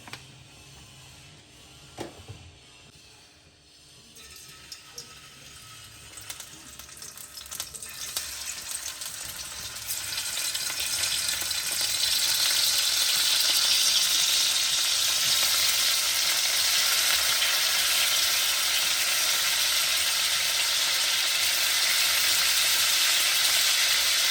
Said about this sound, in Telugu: ముందుగా కడిగి పెట్టుకున్న వంజరాన్ని ఫ్రై చేసుకోవాలి